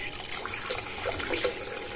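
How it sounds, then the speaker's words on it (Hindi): Water from a tap pours into a jug with a steady, close splashing rush, alone and at moderate level. "तो जग में सबसे पहले पानी जो है वो डाल लेना है"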